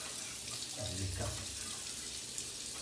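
A bathroom tap runs steadily during shaving in a steady water hiss, while a voice speaks briefly over it.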